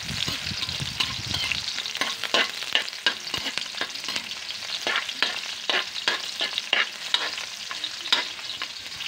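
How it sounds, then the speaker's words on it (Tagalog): Onions sautéing in a pan for a mussel soup sizzle steadily while a utensil scrapes and stirs in quick, repeated strokes, close by and with no talking. "Gigisa na natin sibuyas. Mix lang natin yan."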